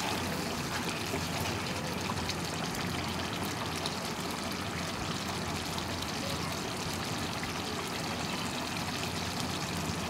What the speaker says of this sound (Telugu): చూసారు కదండి, ఇట్లా ఉడుకుతుంది కదా